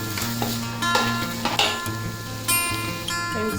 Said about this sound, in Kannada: ಈಗ ಇದು ಈರುಳ್ಳಿ ರೆಡ್ ಕಲರ್ ಬರೋವರೆಗೂ ಫ್ರೈ ಮಾಡ್ಕೊಳ್ತೀನಿ ಫ್ರೆಂಡ್ಸ್ ನೀಟಾಗಿ